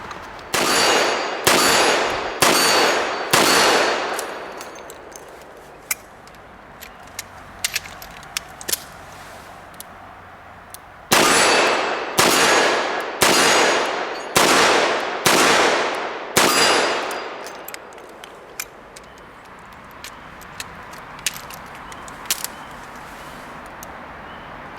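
Revolver reloaded with speedloaders, with loud metallic clanks and clicks coming in two clusters of rapid, evenly spaced impacts and scattered lighter clicks between and after them, close up and without talk.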